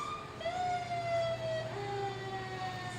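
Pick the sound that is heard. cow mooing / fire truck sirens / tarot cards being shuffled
fire truck sirens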